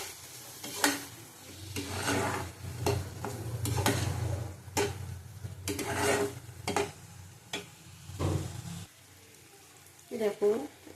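Taro sautéed in a pan with Kashmiri chili powder, a continuous sizzle broken by repeated scraping stirs and spoon clinks while a voice talks over it.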